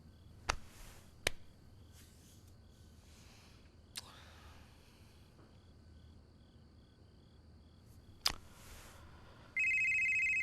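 A phone rings indoors with a repeating electronic ringtone that starts near the end, after a few sharp clicks and knocks over a quiet, insect-like background hum.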